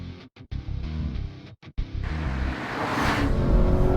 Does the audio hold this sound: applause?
no